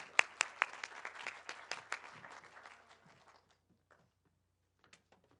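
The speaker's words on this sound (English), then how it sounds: "So one more round of applause for the students." An audience at a university forum claps for students, a short burst of loud applause with a few sharp claps up front that thins out and fades to scattered claps within about three seconds, with no talk.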